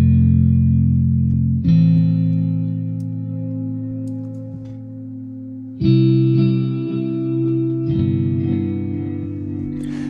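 Ambient cinematic guitar from the Hemisphere Kontakt instrument through a tape echo mode, sustained chords that swell and change every few seconds, with chorus-like shimmer and repeating echoes trailing behind, loud and alone.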